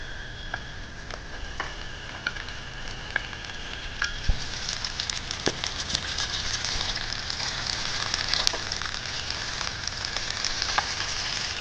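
Chicken pieces fry with browned onions in a pan, making a dense, continuous sizzle with scattered sharp pops and crackles. The sound stays close and steady throughout, and nobody talks.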